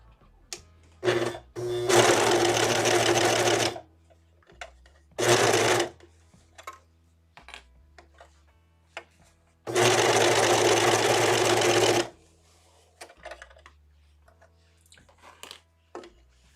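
A sewing machine stitches a thin jersey hooded shirt in several bursts: a short run, a longer steady whir, a brief burst, then another sustained run, separated by quiet pauses and small handling clicks.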